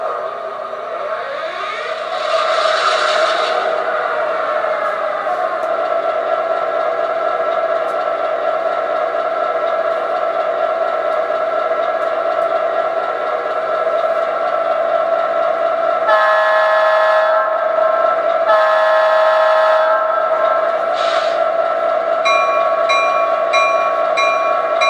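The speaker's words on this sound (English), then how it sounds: "let's get around the rails and check out its startup sequence, bell, and horn" An MTH model MP15DC diesel switcher locomotive rumbles steadily through its startup sequence, with a long horn blast early on, then repeated horn sounds and a ringing bell near the end.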